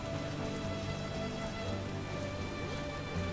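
Steady rain in The Witcher video game, a dense, even patter of drops falling on surfaces throughout with no pauses and no one talking.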